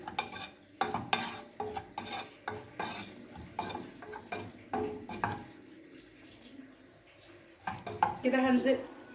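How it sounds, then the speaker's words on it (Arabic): Ingredients for Alexandrian hawawshi are stirred and fried in a pan, with a spoon scraping in repeated strokes and a soft sizzle swelling near the end, close and moderately loud. "افضل اخلط الحاجات دي لحد ما تدي اللون اللي هو اللون الصفار"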